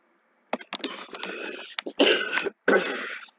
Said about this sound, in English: having a bit of a cough the last day or so